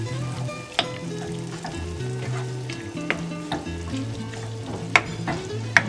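Shrimp with tomato and onion fry in a pan with a steady close sizzle, while a spoon stirs and scrapes, giving several sharp clicks and knocks against the pan.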